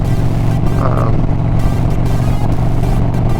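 A 2004 Harley-Davidson motorcycle being ridden, its engine a loud, steady low rumble blended with wind roar, continuous throughout.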